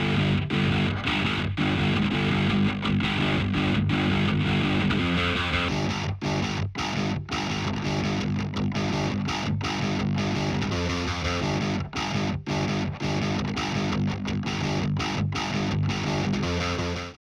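Heavily distorted virtual electric rhythm guitars from Shreddage 3 Hydra through Shreddage Amp XTC, quad-tracked, chug in tight, palm-muted riffs with sharp stops, layered thick and loud throughout.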